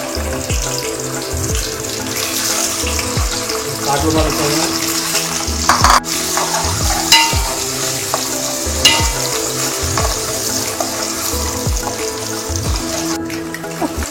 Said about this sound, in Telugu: ఆ ఎగ్స్లను ఈ ఆయిల్లో ఫ్రై చేసుకుందాం